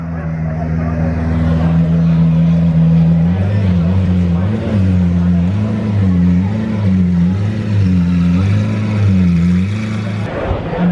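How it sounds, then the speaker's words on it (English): A Ferrari SV fitted with an IPE exhaust idles very loudly up close. It then gets a series of short, rhythmic throttle blips that swell and fall repeatedly before it settles again. "I believe this SV has an IPE exhaust and it is insanely loud."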